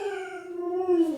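A pet dog howls close by in one long, steady, wavering tone that slides slightly downward, with no talk over it.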